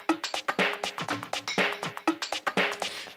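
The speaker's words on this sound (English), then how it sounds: "So I'll just turn on the percussion and it sounds like this." A percussion loop programmed in FL Studio with no kick drum, made of crisp, repeating hand-percussion and hi-hat hits in a quick, looping rhythm, fairly quiet and played alone.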